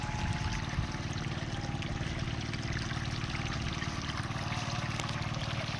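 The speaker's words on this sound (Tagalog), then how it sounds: "Kasi hinihigop pa sa biak ng lupa ang tubig, kaya nga mahina ang tubig dumaloy." Irrigation water flowing slowly into cracked soil of an eggplant field, a steady close trickle and gurgle over a low continuous rumble, with no talk.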